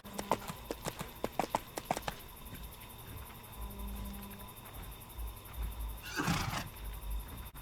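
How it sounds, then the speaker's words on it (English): Horse hooves clip-clopping during a ride in the video game EverQuest 2, a quick run of sharp hoofbeats up front that gives way to a low rumbling creature roar near the end. "you can ride the horse to the Crushbone destination"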